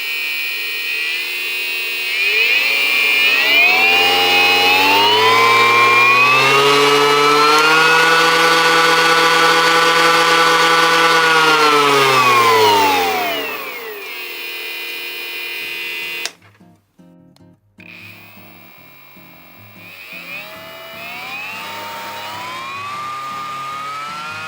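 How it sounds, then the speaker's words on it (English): An Einhell 18V brushless random orbital sander, model TP-RS 18/32 Li BL, whines loudly as it spins up, holds a steady high pitch, then winds down, followed by quieter clicks and a softer restart. "add a battery, turn it on for the first time and see how it sounds"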